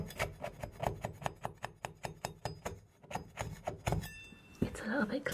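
Old paint being chipped off a surface with a hand tool, a steady run of sharp scraping strokes in quick rhythm, close and fairly quiet, ending in looser rustling and clatter.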